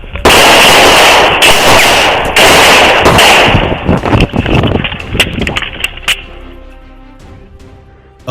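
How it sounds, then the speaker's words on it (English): Rapid gunshots crack during a police confrontation, loud and dense bursts for the first several seconds, then thinning into scattered sharp reports that fade toward the end. "Shots fired, kid!"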